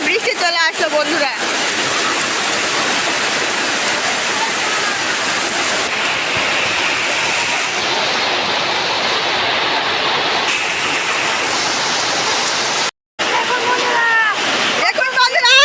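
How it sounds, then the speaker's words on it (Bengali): Heavy rain pours down steadily outdoors on an open-air cooking spot with a wet stove, a dense continuous roar of water spattering and splashing close by, with voices heard briefly at the start and end. "কত জোরে বৃষ্টি চলে আসলো।"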